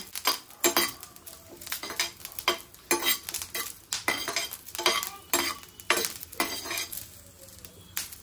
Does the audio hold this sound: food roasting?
yes